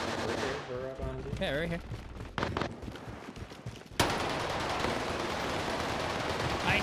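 Gunfire in Call of Duty Warzone on the Caldera map: a player's voice speaks over game sounds at first, then a sudden loud burst of continuous rapid fire kicks in and holds steady to the end.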